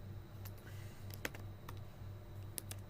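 Keys clacking on a computer keyboard during Python programming work, a steady run of soft close taps with a few sharper strikes standing out over a low background hum.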